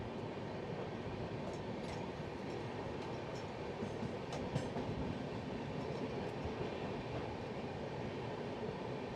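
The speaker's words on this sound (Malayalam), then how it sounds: "ഈ ഒരു ഗുഡ്സിൻ്റെ നീളം കണ്ടോ എത്ര എന്തുമാത്രം നീളത്തിലാണ് ഈ ഗുഡ്സ് ഉള്ളതെന്നൊക്കെ" A long goods train rolls steadily past at close range, a continuous loud rumble of wagons with faint clicking of wheels over rail joints throughout, no voices.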